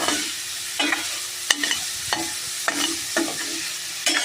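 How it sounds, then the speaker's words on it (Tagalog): Garlic and tomato are stirred together in a frying pan, a steady sizzle punctuated by repeated spatula scrapes and taps against the pan at an uneven rhythm, close and clear without talk. "pwede nga din naman isabay yung bawang sa kamatis. halo-halo lang, halo-halo."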